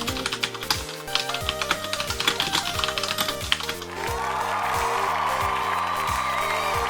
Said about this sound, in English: On our HTML document, within the head area, we must type the following code.